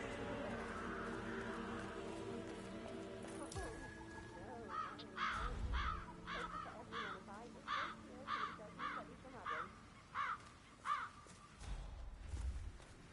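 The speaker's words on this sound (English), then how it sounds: "Damn birds." Crows in the stealth video game Hitman caw repeatedly in loud, rhythmic bursts over a dull game-world background, with a voice speaking between some of the calls.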